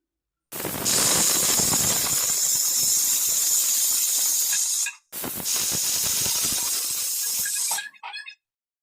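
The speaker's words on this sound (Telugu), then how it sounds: "మూత పెట్టి రెండు విజిల్స్ వచ్చే వరకు ఉడికించుకోవాలి" A pressure cooker cooking moong dal with cut raw mango pieces lets off two long, loud, steady steam whistles. The second comes after a brief gap, and the sound cuts off with a short sputter. No voices.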